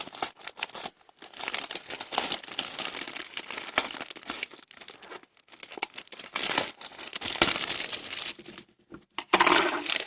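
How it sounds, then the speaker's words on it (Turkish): Şut ve Gol magazine packaging with card packs crinkling and tearing open, loud close-up rustles and rips in uneven bursts with short pauses. "hemen Şut ve Gol dergisini açmaya başlayalım arkadaşlar"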